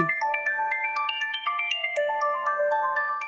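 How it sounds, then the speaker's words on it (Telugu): A phone ringtone for an incoming call plays loud and clear as a repeating bright melodic chime pattern, alone without voices. "ఆ అబ్బాయి ఫోన్ చేస్తున్నాడు."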